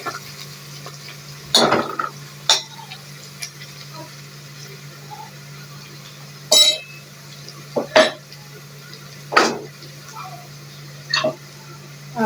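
A spoon clinks and scrapes against a pan as garlic is stirred into browning onions for a chicken dish, several sharp, separate knocks spaced irregularly over a low background hum.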